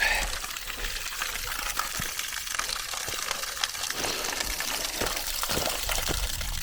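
Water pours steadily from a mountain water point in the Pyrenees, a close, continuous broadband gush that fills the whole stretch without pause.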